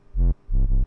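Serum wavetable synth bass with an LFO sweeping the wavetable position, a fat, loud low bass playing two sustained notes separated by a short gap, alone with no talk.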